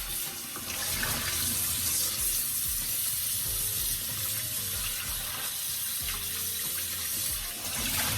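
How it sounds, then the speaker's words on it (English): Continuous running water splashing and sloshing, close and fairly loud, as breadfruit is rinsed in fresh water. "you're going to rinse these off in some fresh water"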